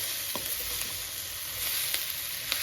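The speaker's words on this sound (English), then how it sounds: "Amazing vegetable stir fry." Vegetable stir fry sizzling in a pan over medium heat, a steady bright hiss with a few soft clinks and stirs, close and continuous with no voices.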